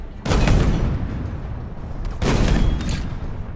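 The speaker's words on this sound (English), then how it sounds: "putting an emphasis on the initial boom that comes from the main cannon, with a more subdued metallic clang for the shell ejector" The Scorpion tank's main cannon fires twice in a Halo video game, each shot a loud, close boom followed by a fading rumble, roughly two seconds apart.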